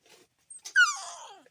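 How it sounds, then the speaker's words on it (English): A puppy gives a short whimpering whine, a high wavering cry that slides downward, close and alone with no talking. "The puppy's down here. Come here, puppy. Come here, puppy."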